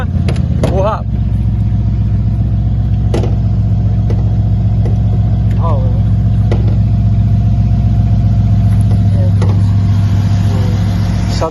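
A Mercedes CLS V8 engine runs loud and close with a deep, steady rumble held throughout, while people talk over it.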